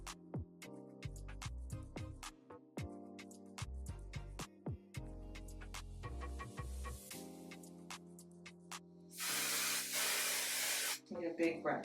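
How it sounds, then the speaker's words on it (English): Heat protection spray misted onto a kinky straight half wig, one sustained close hiss lasting about two seconds after background music. "we're going to need the heat protection spray."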